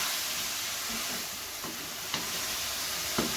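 Potato and cauliflower sabzi with red chili is stirred in a pan, giving a steady, soft sizzle with a few faint scraping clicks of the spoon against the pan and no voices.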